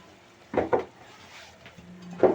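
Milk and sev mixture with Kashmiri red chili being stirred in a pan: a few quick scraping clinks of a utensil against the metal, close and brief, separated by quiet pauses.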